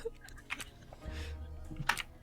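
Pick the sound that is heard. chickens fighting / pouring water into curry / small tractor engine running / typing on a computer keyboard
typing on a computer keyboard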